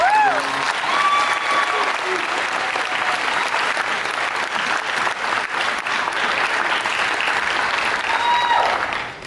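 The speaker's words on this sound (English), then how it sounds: "I hope you'll clap." An audience at a speaking event claps steadily and loudly for about nine seconds, a dense, continuous wash of hands with faint cheers, and no pauses.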